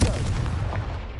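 Confringo blasting spell cast in Hogwarts Legacy, a short, loud explosive burst with a booming, crackling impact that quickly fades.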